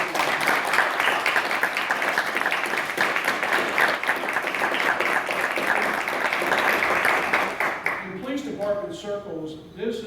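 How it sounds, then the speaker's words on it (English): A crowd gives a police department a sustained round of applause at an accreditation announcement, dense clapping filling the room for about eight seconds before fading into a voice speaking. "Let's give the police department a nice round of applause."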